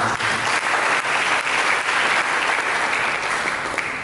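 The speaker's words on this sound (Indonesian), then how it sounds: "Mari kita berikan tepuk tangan." Sustained applause from a church congregation after a sermon, many hands clapping steadily and loudly, a broad even roar that holds for about four seconds.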